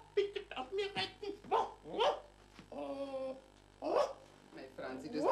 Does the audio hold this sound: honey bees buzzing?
no